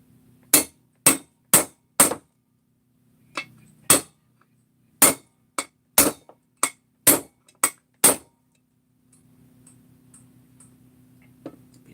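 Sharp hammer taps ring out in quick irregular bursts, about a dozen close metallic strikes with short pauses between, tapping parts into a crankcase, then a faint hum.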